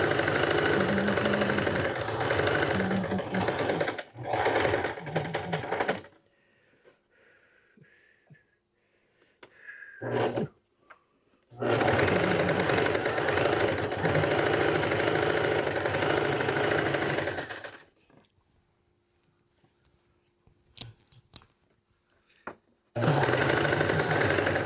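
A sewing machine stitches the final seam of a traditional quilt block, running in three steady, motor-driven bursts separated by quiet pauses.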